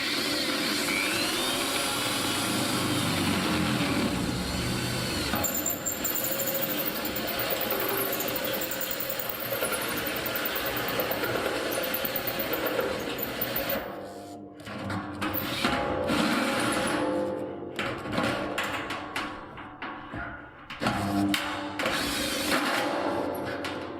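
An electric drill bores holes around the circumference of a metal barrel, giving a continuous loud whirring grind that later breaks into choppier, intermittent bursts as the bit slips in the chuck.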